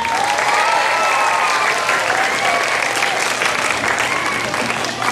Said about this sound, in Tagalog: Kaya lahat tayo sabay-sabay na pumalakpak.